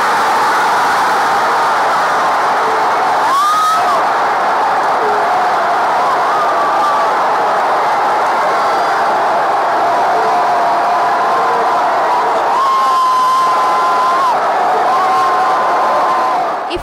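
A football crowd in the Minas Gerais capital cheering Brazil's penalty shootout win over Chile at the World Cup, a broad sustained roar from many people with occasional whoops and whistles rising above it.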